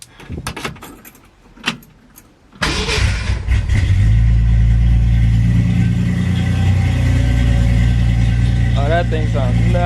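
A 1966 Mustang inline-6 with a custom exhaust cranks and fires after a few keys and clunks, then settles into a loud, steady, deep rumbling idle close by.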